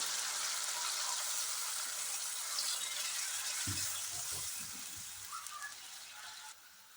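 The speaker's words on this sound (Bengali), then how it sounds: "এবার গরম জল দিয়ে দেবো।" Hot water poured onto frying spice paste for a Bengali rohu fish kalia sets off a steady loud hiss that fades toward the end, with a few soft clunks of the pot partway through.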